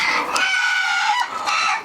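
Chickens and a rooster on a home poultry setup cluck and squawk loudly up close in a continuous, overlapping chorus with a few sharper cries.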